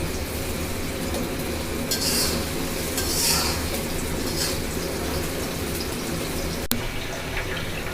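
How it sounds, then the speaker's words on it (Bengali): Onions frying in oil in a pan for chicken biryani, a steady close hiss with soft stirring scrapes and a brief clink near the end. "আমার পেঁয়াজ ভাজি হয়ে গেছে"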